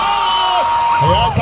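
A crowd at a live performance bursts into loud, continuous cheering with whoops and shouts, steady throughout the short stretch.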